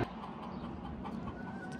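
A broody backyard hen clucks in a small garden flock of five chickens, a steady close run of low clucks over a constant muffled background.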